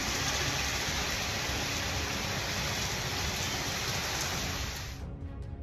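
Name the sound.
heavy rain with thunder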